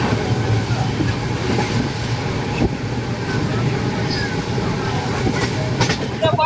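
Howrah–Guwahati Saraighat Express (12345) running nonstop between stations, heard from inside a sleeper-class coach: a loud, continuous rumble of wheels on rail with steady rattling and occasional clicks throughout.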